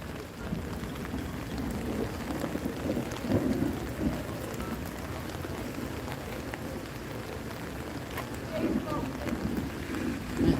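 Rain falls steadily outdoors at a lakeside park in Celebration, Florida. It is a constant, fairly loud hiss with occasional heavier swells and faint voices in the mix.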